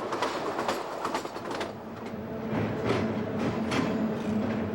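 A passenger train on a scenic route approaching Quebec, with steady clickety-clack of wheels over rail joints and a continuous low rumble, moderately quiet and heard alone.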